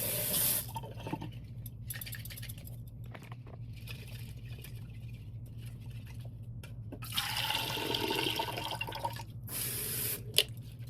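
Water runs and splashes while radish sprouting seeds are rinsed in a jar, with intermittent bursts of pouring and gurgling between quieter trickles, all close and fairly faint.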